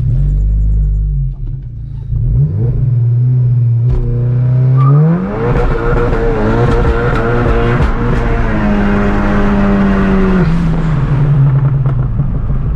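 A Volkswagen Golf 7 GTI Performance with a Stage 3 tune, around 500 hp, accelerates hard. The loud engine roar climbs steadily in pitch, with brief dips at gear changes, heard from inside the car.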